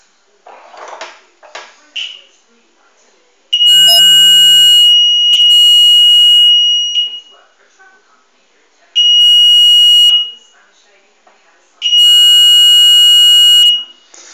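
A Velleman infrared barrier alarm sounding when its beam is broken, three loud piercing electronic tones of a couple of seconds each separated by pauses, with faint handling clicks between.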